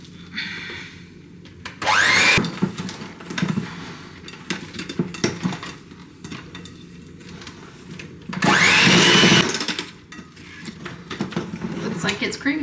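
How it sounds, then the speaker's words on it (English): An electric mixer whirs loudly in two short bursts while beating eggs into peanut butter cookie dough, with clatter and handling noise and a person speaking between the runs. "we are going to beat in eggs one at a time"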